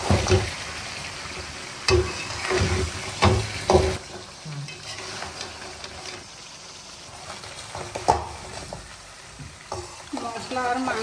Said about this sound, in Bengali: সমস্ত মশলা আমি আবারও খুব ভালো করে মাংসের সাথে নাড়াচাড়া করে মিশিয়ে নেব।